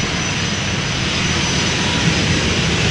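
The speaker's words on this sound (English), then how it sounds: "KLM flight 1127, Boeing 737-800, destination Copenhagen, Denmark." Steady, loud roar of KLM Boeing 737-800 jet engines at Amsterdam Schiphol Airport, a broad continuous rush with no breaks.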